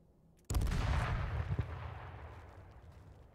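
A grenade explodes in a video game with one sudden, loud, close blast that booms heavily and then rumbles down into a slowly fading tail.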